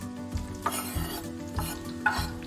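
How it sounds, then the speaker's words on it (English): Spanish onion caramelizing in a pan over low-medium heat, soft sizzling under a few distinct stirring scrapes spaced about half a second apart, nearby and fairly quiet, no talking. "I'm gonna caramelize some Spanish onion. Put that on low to medium heat."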